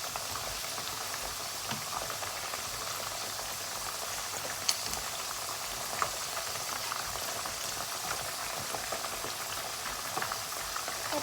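Fermented pork bones fry in oil over medium heat, giving a steady, even bubbling and sizzling with faint pops throughout and no talking.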